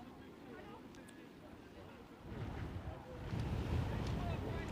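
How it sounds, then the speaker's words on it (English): Strong wind buffets the microphone at an outdoor American football game in the UK, a low roaring rumble that grows louder partway through, with faint speech underneath. "it's windy out here"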